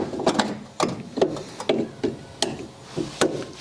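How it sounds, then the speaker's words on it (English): A wrench works a nut loose on a car shock absorber, producing a run of sharp metallic ratcheting clicks in short irregular bursts, close and fairly loud, with no voices. "Right, I'll undo this nut."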